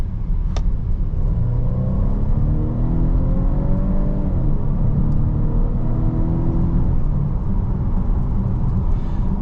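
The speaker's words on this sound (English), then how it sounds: "We'll get it up to 25 miles an hour and just kind of mash the throttle and see what the transmission does." 2023 Volvo V90 Cross Country under hard acceleration from about 25 mph, its 8-speed automatic running up through gears: a steady engine drone with rising tones that step down at each shift, heard from inside the cabin.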